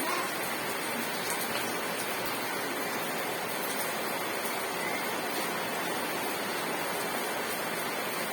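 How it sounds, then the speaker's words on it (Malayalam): Steady rain pours down, a dense even hiss with no pauses, filling the whole stretch at moderate volume. "മഴയാന്ന് കണ്ടില്ലേ"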